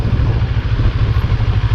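A CFMoto NK400 motorcycle rolls slowly over a rocky road in Batangas, its engine a close, loud low throb with a steady pulsing rhythm and faint clatter.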